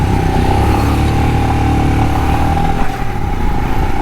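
A group of motorcycles, including KTM, Dominar, Himalayan, MT150 and FZ bikes, idles and revs loudly before a group ride, a constant close engine drone with a brief dip near the end.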